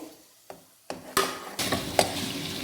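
A spoon stirring an egg, milk and bread halwa in a pan: a handful of separate scraping strokes and clicks, close and fairly loud, with a soft sizzle between them.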